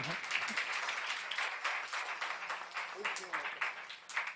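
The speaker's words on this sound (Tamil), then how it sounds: "அவங்களுக்கெல்லாம் ஒரு பெரிய கைத்தட்டல் கொடுக்கணும்." An audience claps in Sai Charanam Hall in Chennai during a 97th birthday celebration for Sri Sathya Sai, a dense, lively wash of applause that rises and falls over a few seconds, with faint voices mixed in.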